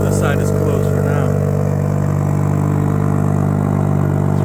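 A 2024 BMW M340i LCI fitted with an M Performance exhaust idles loudly and steadily right after a cold start, its deep even drone continuing under a brief spoken remark at the beginning.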